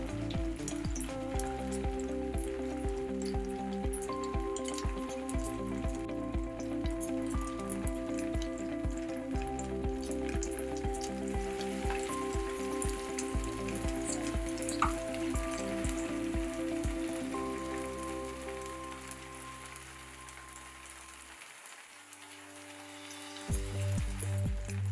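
Veg lollipops on sticks frying in hot oil over a medium flame, giving a continuous close crackling sizzle with busy bubbling that fades toward the end.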